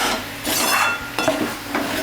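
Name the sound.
stirring bottle gourd curry in a pan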